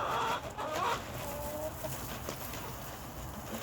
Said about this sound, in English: It's the chicken habitat.